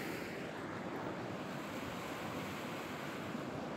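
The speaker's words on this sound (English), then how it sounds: "So this is the main Hell Roaring Creek, which feeds my overflow" Hell Roaring Creek rushes steadily during the thaw, a constant broadband roar of water with no breaks and no voices, heard from nearby.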